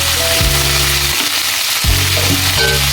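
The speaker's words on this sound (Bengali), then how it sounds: "এখন এগুলো একটু ভেজে নিব ভালো করে" Okra (bhindi) frying in oil in a pan, heard up close as a loud, steady sizzle, with a few stirring scrapes and no voices.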